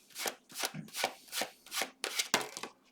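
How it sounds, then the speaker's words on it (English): Tarot cards shuffled by hand in quick, rhythmic riffles, about eight crisp bursts in three seconds, close and clear with no talking. "Lots of cards flying out."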